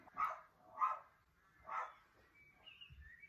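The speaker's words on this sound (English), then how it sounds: "That's my dog barking." A dog barks three times in separate bursts at moderate distance, with quiet pauses between barks.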